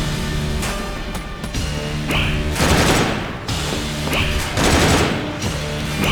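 Rapid bursts of gunfire from the twin-stick shooter game Enter the Gungeon, loud and dense with crashing impacts, swelling in waves over a steady game music bed, no talk.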